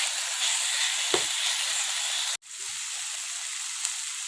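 Masoor lentils fry in a pan over a low-to-medium gas flame, giving a steady soft sizzle and hiss throughout, with a brief stir-like clatter near the start and a short break in the middle.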